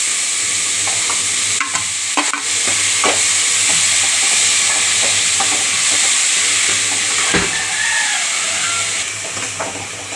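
Tomatoes frying with shallots and garlic in a pan for a green peas kurma, a loud steady sizzle with occasional stirring scrapes and pops.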